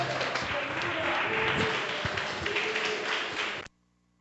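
Sustained applause from a church congregation, dense and steady for several seconds before cutting off abruptly, with some voices mixed in.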